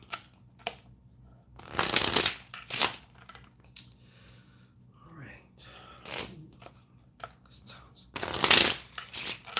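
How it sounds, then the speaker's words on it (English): Spirit cards are shuffled for a card reading in loud, close riffling bursts separated by pauses, while a voice talks quietly in between. "am going to throw cards just to see what else comes through"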